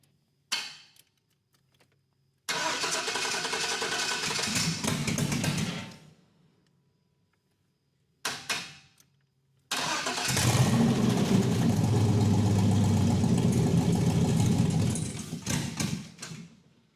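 A car engine cranks and catches twice: a short run that cuts out, then a longer, loud, steady rumble close by. No talking.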